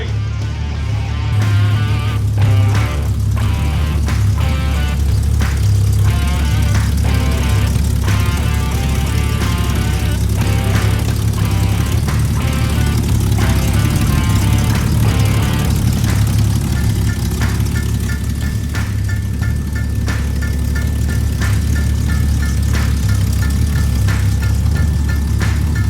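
A classic first-generation Ford Bronco engine, fitted with a Weber 2-barrel carburetor, runs steadily close by with a deep, even rumble and some mechanical chatter, and no voices are heard.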